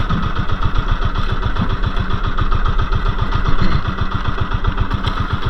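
Fishing boat engine running steadily at close range during low tide, a loud, rhythmic chugging with regular firing pulses throughout and no talk.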